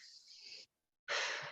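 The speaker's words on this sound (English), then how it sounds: "Take a deep breath in." A person takes a deep breath in during a guided breathing exercise: a breathy airy draw, a brief silent pause, then a second, louder and fuller inhalation close to the microphone.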